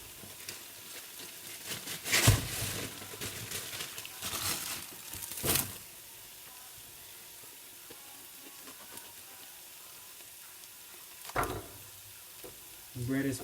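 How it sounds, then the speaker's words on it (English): Grelos greens and onion sizzle quietly in a pan, a soft continuous frying hiss punctuated by a few louder stirring clatters and scrapes, close by with no talking. "grelos and onion are cooking"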